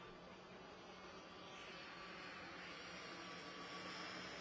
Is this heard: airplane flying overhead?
yes